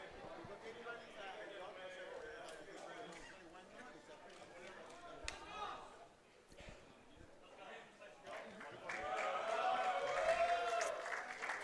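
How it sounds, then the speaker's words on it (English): Crowd at a national indoor racquetball championship cheers and applauds, a steady roar swelling louder near the end, with a few people talking amid the noise. "If you can hear the crowd again, they're cheering him on"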